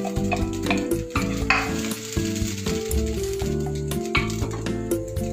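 Peanuts, dal and sabudana crackle and sizzle loudly in a pan as they are stirred, with music playing steadily underneath throughout.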